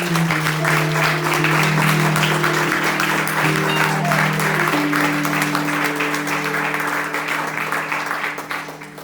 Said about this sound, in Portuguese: Você pode aplaudir ao Senhor nesta noite